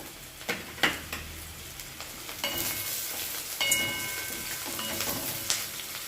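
Chopped onion, ginger and sliced green chili fry in a pan with a moderate sizzle, punctuated by a few sharp clacks and stirring scrapes, close and without talking.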